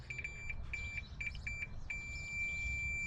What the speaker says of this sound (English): if you hear that beep, that's a dead short,